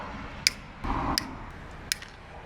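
Wire cutters snip through accessory wiring during a switch panel install on a Nissan Xterra, three sharp close clicks spaced evenly apart with a brief rustle of handling in between.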